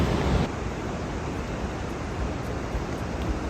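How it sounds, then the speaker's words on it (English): The La Fortuna waterfall in rainy season roars as a dense, continuous rush of heavy falling water, steady and loud throughout with no other sounds. "That is the La Fortuna waterfall. Lots and lots of water."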